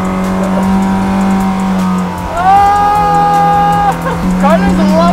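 A $100,000 jet car supercar drives on water near a city, its engine humming steadily and then rising in pitch as the revs climb, with voices talking over it.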